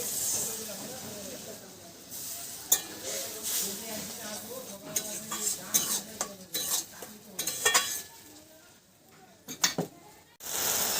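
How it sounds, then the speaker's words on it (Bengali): Spice paste and water go into a hot pan for jackfruit curry, bringing soft sizzling and hissing with a spoon stirring and scraping, plus scattered clinks of utensils against the pan. "এবারে দিয়ে দেব মশলার পেস্টটা মিক্সির বাটি ধোয়া জলটাও দিয়ে দিচ্ছি"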